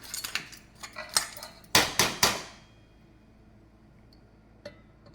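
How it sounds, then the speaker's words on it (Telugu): A metal spoon clinks and scrapes against a pot of simmering crab curry, a run of sharp taps that grow louder and then fade, followed by a single faint knock. "పీతలు కాబట్టి ఇలా తిప్పుతున్నానండి స్పూన్తో."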